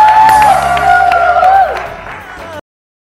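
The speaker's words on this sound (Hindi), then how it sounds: "बस आई तालियां" Applause and cheering from a studio audience on a morning TV show, a loud, dense burst of clapping with a few whoops that swells and then fades before cutting off abruptly.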